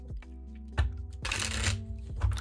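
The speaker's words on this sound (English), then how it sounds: "I dislike that you can't see that I'm shuffling." A tarot deck is shuffled up close, with crisp riffling and flicking of cards in quick bursts and a soft slap as the deck comes together.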